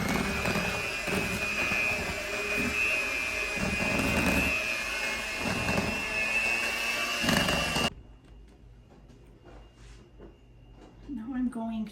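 An electric mixer beats chocolate cheesecake batter with melted milk chocolate and cream cheese, a loud steady whine that stops abruptly near the eighth second. A quiet room and a speaking voice follow.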